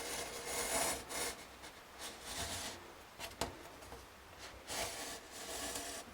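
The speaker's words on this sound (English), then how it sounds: "the knife along the edge really nice and slowly" A craft knife is drawn slowly along a steel rule, cutting into board: quiet, close rasping scrapes come in several short strokes with a soft sharper tick partway through, with no talking.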